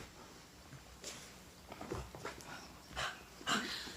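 A dog at home whimpering and yipping in short, faint bursts, a few soft cries spaced unevenly with light movement sounds between them.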